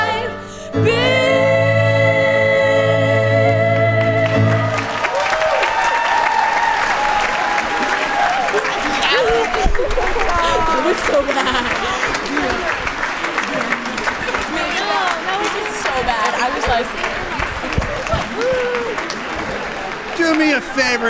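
After a short stretch of music ends, a school assembly audience breaks into sustained applause, a dense and fairly loud clapping wash that carries on for about fifteen seconds with scattered voices mixed in.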